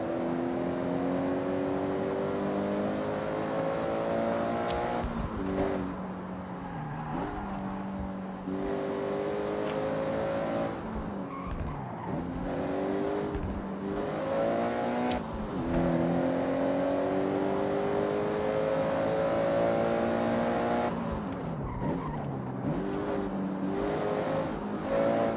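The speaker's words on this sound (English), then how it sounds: "The exhaust is different. The sound's different because I'm inside the car now." A car engine and exhaust heard from inside the cabin in the video game Forza Horizon, steady revving that climbs through gears with several shifts over a sustained drone, no talking.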